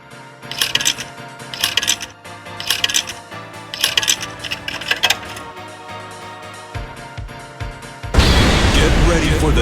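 Coins clinking as they are dropped one after another into an arcade machine, a handful of bright metallic rattles in quick rhythmic bursts, followed by a louder electronic rush of sound.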